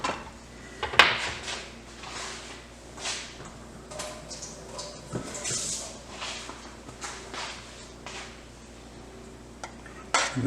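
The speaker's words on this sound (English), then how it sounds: "I'm going to whisk that in." Gravy for southern fried chicken is whisked in a pan, giving soft irregular scraping and clinking of the whisk against metal, close and fairly quiet, with a few sharper knocks near the start and end.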